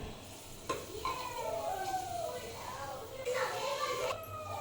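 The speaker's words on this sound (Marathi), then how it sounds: "ते पापड फ्राय करते" Papad frying in hot oil in a home kitchen, a bright crackling sizzle that swells in bursts, with faint voices and household noise in the background.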